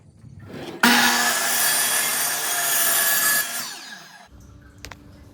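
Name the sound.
sawing 1x cedar board to length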